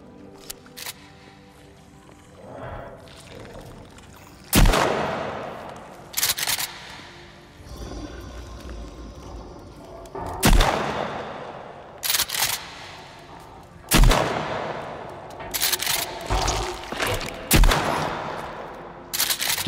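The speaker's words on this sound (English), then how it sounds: "Let's shoot him with the shotgun." Shotgun blasts in the video game Sons of the Forest: about five loud, sharp booms spaced a few seconds apart, each ringing off briefly, amid quieter game noise and occasional faint talk.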